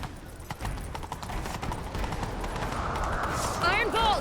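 A horse gallops in the video game The Witcher 3, a rapid, continuous clip-clop of hooves under a voice, with a whistling swoosh near the end.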